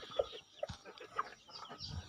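A four-month-old native rooster clucks in short, soft calls scattered across the moment, quiet and close, with faint background rustle.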